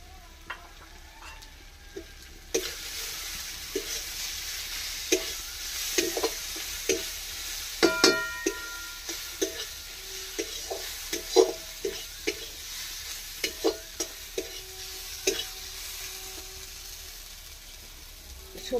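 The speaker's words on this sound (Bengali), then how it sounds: "এটা আমার ভাজা হয়ে গেছে মশলাটা" Ground cumin and coriander spices fry in a pan, a steady sizzle punctuated by repeated scraping clicks of a spatula stirring, close and moderately loud throughout with no talking.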